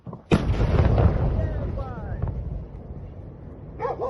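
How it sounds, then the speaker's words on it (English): A loud, sudden ammunition depot explosion booms nearby, followed by a long rumbling roar that slowly fades, with faint voices heard briefly near the end. "the explosions were incredibly significant"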